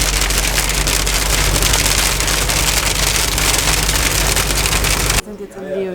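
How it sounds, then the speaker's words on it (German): Heavy rain with hail during a thunderstorm, pouring onto a street in a continuous loud dense patter for about five seconds before cutting off abruptly to quieter background. "Sturm, Gewitter mit Hagel."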